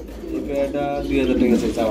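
A male fantail pigeon coos with soft, low, rolling calls close by, while someone talks over and alongside the cooing.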